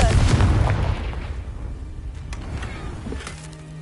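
Confringo fire-blast spell going off in Hogwarts Legacy, a single loud, rumbling explosion at the start that decays into a lingering low roar, ending with a faint hum.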